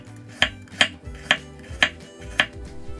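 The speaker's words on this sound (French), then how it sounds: "Et on va également détailler en lamelles." A knife slices a peeled carrot into thin strips on a cutting board, five crisp, evenly spaced chops ringing out close by over a faint low background hum, with no talking.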